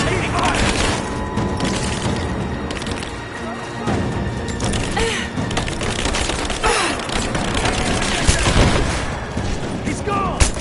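Dense gunfire and bursts of shooting in the Rise of the Tomb Raider video game, a loud continuous barrage with booms and cracks mixed under shouted voices and game sounds throughout.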